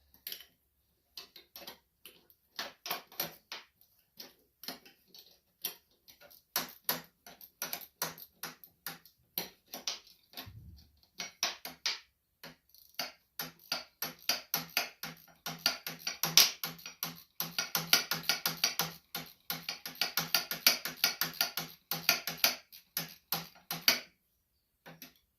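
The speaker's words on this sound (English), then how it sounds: "This is what I gotta do with my ratcheting wrench." A ratcheting wrench clicks while a John Deere LT180 riding mower's 48-inch deck belt is changed, giving close, crisp rapid ticks in bursts with short pauses, then a longer, denser run of clicking near the end.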